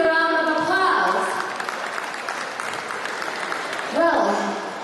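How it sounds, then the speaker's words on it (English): Audience applause breaks out at a live event after a black burger is presented, a broad wash of clapping heard alongside a voice speaking over it at the start and again near the end. "Please give them a big round of applause"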